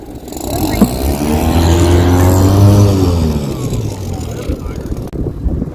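Loud dinghy boat engine running hot close by, its pitch rising then falling as it revs and settles, with a voice speaking briefly over it.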